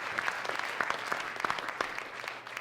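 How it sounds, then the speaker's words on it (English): An audience at a college elevator pitch competition claps for the celebrity judges, a dense burst of applause from a mid-sized crowd that holds steady and then tapers off near the end. "I think they deserve a round of applause"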